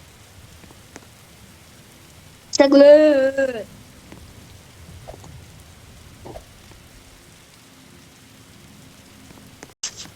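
Game rain from the Roblox title Dead Rails falls in a steady, soft patter throughout, with a brief spoken word and a few small clicks over it.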